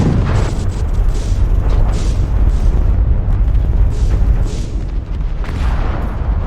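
Dense rolling missile blasts in the mech combat game MechWarrior Online, continuous loud booming detonations with rumbling bass filling the whole stretch.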